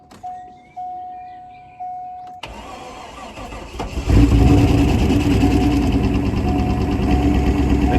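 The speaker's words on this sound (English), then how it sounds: "Had a little bit of a miss when I first started it" Barn-find Corvette C4 ZR-1 that had sat unused, cranking after a few beeps, then catching and firing into a loud, close idle with a slight misfire and a rough, uneven note.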